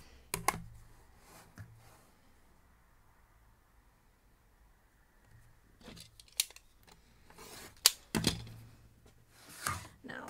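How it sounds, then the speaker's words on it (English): Quilt fabric is cut with scissors for a double pinwheel block, giving a few crisp snips near the start and a louder run of close cutting and rustling toward the end, with brief talk. "let's cut one more"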